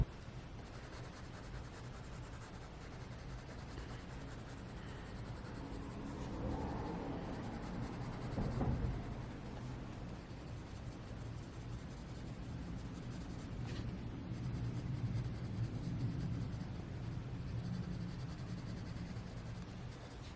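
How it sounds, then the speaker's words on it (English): A small Prismacolor coloured pencil rubs steadily across paper in soft, continuous scratchy strokes, quiet and close with no talking. "it's a real challenge trying to colour with a pencil this small"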